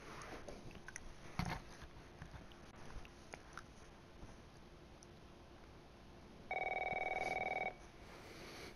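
A telephone rings in The Last of Us, its steady electronic tone sounding once for about a second near the end of a quiet stretch with faint clicks and low background.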